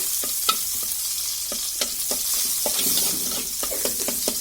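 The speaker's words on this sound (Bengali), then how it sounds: "যে পেঁয়াজ কুচিগুলো আছে সেটা দিয়ে দিচ্ছি" Chopped onions sizzle in hot oil in a pan while a utensil scrapes and stirs them, with sharp clinks recurring every half second or so over a steady bright hiss.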